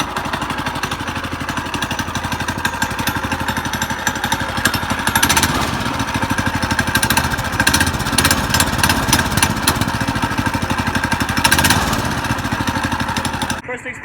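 A Yerf Dog go-kart's small engine runs steadily right after starting, a loud close rapid putter with a busy mechanical rattle that holds an even idle before cutting off at the end.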